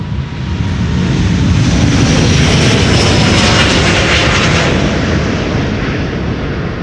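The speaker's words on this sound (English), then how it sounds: "Delta Airlines flight 49 to New York" Delta Airlines jet departing Amsterdam Schiphol's Polderbaan runway for New York JFK, a loud, close, rumbling engine roar that swells and holds across the whole stretch without talk.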